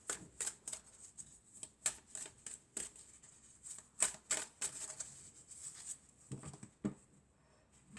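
Oracle cards are shuffled and handled close by in irregular quick riffling bursts and soft slaps, fairly faint and without talk, during a tarot-style guidance reading.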